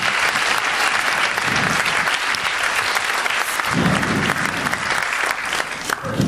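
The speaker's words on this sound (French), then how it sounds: "Vous pouvez applaudir Théodore," Sustained applause from an audience at a comedy master class in the Yvelines, dense and steady for several seconds, with a few voices mixed into the crowd.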